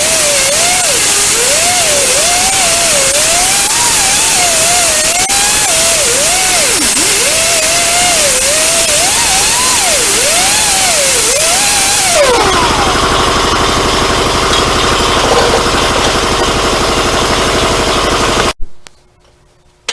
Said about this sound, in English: the air compressor kicked on and cut me off